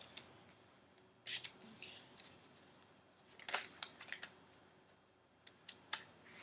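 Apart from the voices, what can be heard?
shuffling slippery tarot cards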